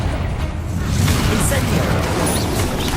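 A Repulso force spell cast in the Hogwarts Legacy video game, heard as a dense, steady, rumbling blast of broadband magical energy that holds loud for a few seconds with no clear gaps.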